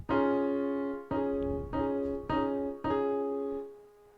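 Piano chords struck one after another, five in a row, each preceded by a quick single note just before the chord lands; clear and close, no voices.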